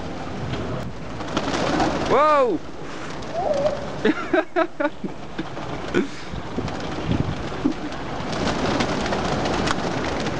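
Pigeons coo outdoors in low, throaty bursts over steady wind and rain-like background noise, with a person's brief exclamation and a series of short thumps mixed in.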